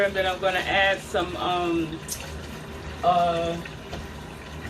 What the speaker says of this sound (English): So I'm going to fill this up with some cold water